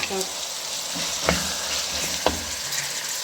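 Potatoes and peas fry in a tomato masala for an aloo matar keema, a steady broadband sizzle with two sharp spoon-scrape knocks against the pan, close and fairly loud, with no talking.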